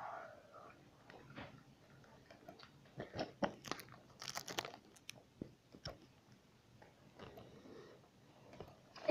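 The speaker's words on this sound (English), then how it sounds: "Now to chew it." Crunchy food being chewed during a taste test, a series of sharp, close crackling crunches and bites in an irregular rhythm, with soft whispering and quiet talk around them.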